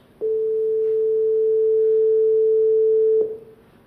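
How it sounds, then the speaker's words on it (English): A pure A440 sine tone sounds as a single steady note for about three seconds. It starts and stops cleanly, with no other sounds. "That's A440, a single note."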